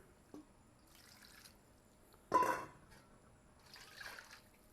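Water poured into a pot for a small Cajun jambalaya, a short splashing burst after a faint drip, followed by a softer trickle, close and moderately loud with no talk.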